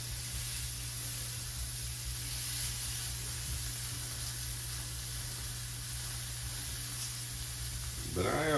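Onions sizzling in a pan give a steady, even hiss with a low hum underneath, with a clatter of stirring or handling near the end.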